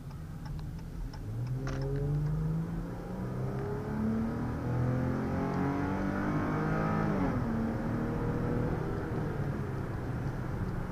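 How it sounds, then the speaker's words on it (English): A 2015 Dodge Challenger SXT accelerating hard down a straightaway, engine note climbing steadily through the gears with a shift partway, a loud sustained drone heard from inside the car. "Now I'm going to get on this little straightaway and show you the acceleration that it has"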